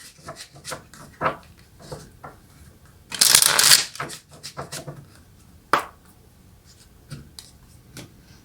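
Tarot cards being shuffled and handled up close, with soft taps and flicks followed by one loud riffling burst lasting under a second, then more light card snaps.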